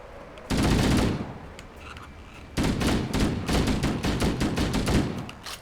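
An assault rifle in the Halo CE video game fires at Banshees: a loud burst of automatic fire, a short pause, then a longer stretch of rapid, sustained shots close up.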